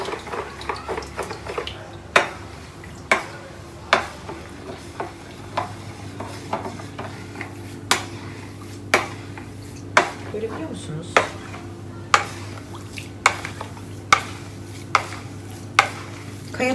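A spoon stirs salt into vinegar for pickles, scraping steadily in the container with sharp regular knocks against its side about once a second, close and clear.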